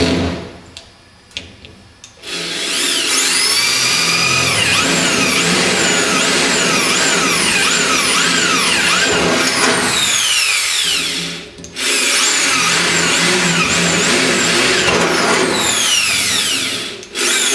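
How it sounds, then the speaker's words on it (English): A power tool drives rivets into a car's diff pan panel in long, loud whining bursts with rising and falling pitch sweeps, two main runs separated by brief pauses, preceded by a few short clicks and knocks. "we're going to put 4 rivets in"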